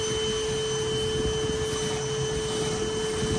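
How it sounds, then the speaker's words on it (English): A vacuum pulls honeybees out of a hive built inside a wooden cabinet, a constant loud whining hum with a steady tone and rough low-end rumble throughout. "right now we're pretty much, vacuuming and dissecting their hive."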